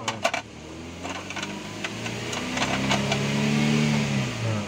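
A car engine revs up and holds under throttle while an alternator fault is being checked, its rising hum swelling steadily over a few seconds, close and fairly loud, with no talking.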